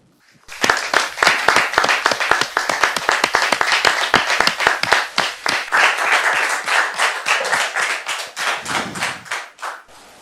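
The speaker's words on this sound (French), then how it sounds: "Et ce sera avec vos applaudissements" Audience at a church gathering breaks into loud, sustained clapping, dense and close for about ten seconds before gradually thinning out, with a brief low murmur near the end.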